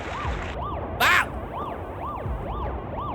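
Video game siren, a repeating wailing rise-and-fall tone sounding steadily, interrupted once by a short sharp burst of noise.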